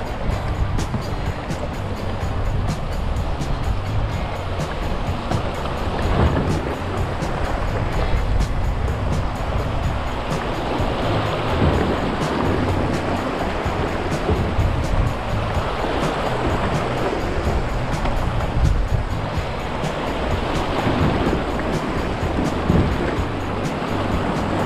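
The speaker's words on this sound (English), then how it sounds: "That's definitely the longest rapid that I've had so far, this one." A long river rapid on the Rio Grande in Big Bend rushes and churns steadily through a boulder field, loud and continuous around a kayak with no pauses in the roar of water.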